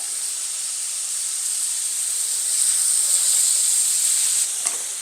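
Garlic cloves, about eight of them, sizzle steadily in a hot pan with a bright, hissing fry that swells slightly toward the end before a brief clatter, and no voice is heard.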